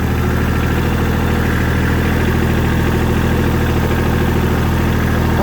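A tractor engine runs steadily and loudly up close while working a dirt bike track, a continuous low throbbing drone with constant vibration and no change in pace.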